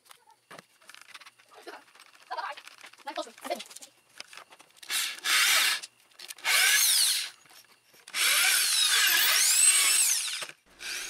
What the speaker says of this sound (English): so I could drill some holes through the actual papier-mâché